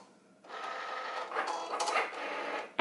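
A Cricut cutting machine slices vinyl pantry labels, its motor whirring softly with shifting, buzzing strokes as the blade carriage moves back and forth, quiet and close with no voices.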